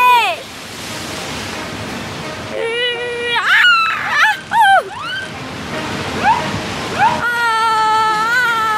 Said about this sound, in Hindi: ये लहरें हमारी बोट पलट भी सकती है।